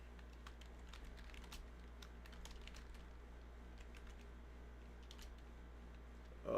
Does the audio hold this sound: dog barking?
no